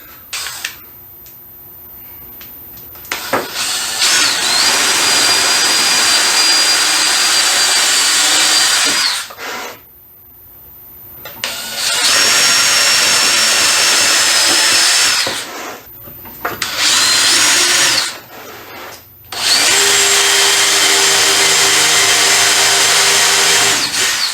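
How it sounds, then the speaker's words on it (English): A power drill whirs loudly in several long bursts separated by short silences, close by and steady while running, drilling and countersinking holes while building a table saw dovetail clamp sled. "I'm just going to drill through just to get the hole as a reference"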